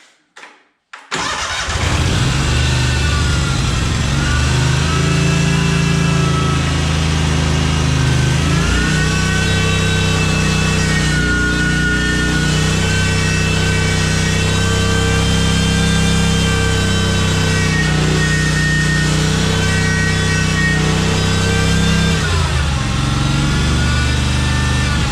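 Cub Cadet 1864 lawn tractor on full choke and a little throttle: its small engine cranks briefly, catches, then settles into a loud, steady, close-up run with a slight wavering in pitch.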